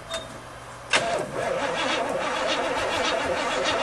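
A Chevy-powered 1963 front end loader has its engine started with a brief crank and a sudden catch, then a steady, rough idle that runs on at close range.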